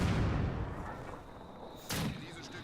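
Mortar fire in a World War II real-time strategy battle between US forces and Wehrmacht units, heard as a loud boom at the start and a second sharp blast near the end, with battlefield rumble between.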